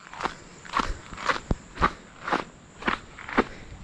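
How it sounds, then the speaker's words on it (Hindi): Footsteps of noisy sandals on a slippery, rocky path near Jaysagar Dam in Jawhar: seven steady crunching steps at an even walking pace, fairly close, with no talking. "ये जो सैंडल है ना वो बहुत शोर कर रहा है।"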